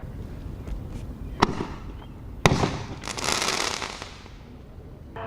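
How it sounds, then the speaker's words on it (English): Fireworks going off outdoors in Montgomery County: two sharp, loud bangs a second apart, followed by a longer burst of crackling and hissing that fades out, heard at moderate distance. "Here's some footage that shows some of the dangers of fireworks."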